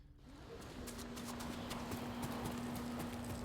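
Horse hooves clip-clopping at a quick pace in the video game Ghost of Tsushima, a run of close, sharp hoof strikes over a low steady hum and game ambience.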